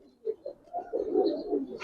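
Giribaj pigeons at a loft give soft, brief coos, a couple of quick notes followed by a longer rolling call, faint and close.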